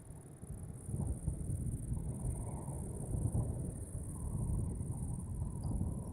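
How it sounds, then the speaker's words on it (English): Dense chorus of crickets chirping steadily outdoors at night near an airport, a continuous high insect trill over low rumbling background noise, with no talking. "Do you guys hear all the crickets?"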